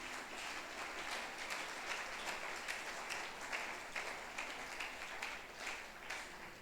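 Congregation applauding during a French-language church service, a steady dense wash of clapping with faint rhythmic accents, moderately distant and continuous throughout.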